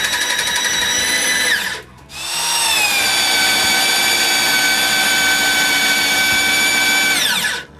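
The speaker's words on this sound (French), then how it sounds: "je perce le premier trou en angle" A power drill bores an angled hole in wood for a sawhorse: a short loud whirring burst, a brief pause, then a longer high-pitched run that winds down at the end.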